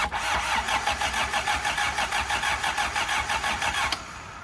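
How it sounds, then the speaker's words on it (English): A Toyota TE72 liftback engine, long abandoned, cranks slowly over and over in a steady rhythmic pulse without catching. The loud starter churn runs close up for about four seconds and then cuts off. "Very slow crank."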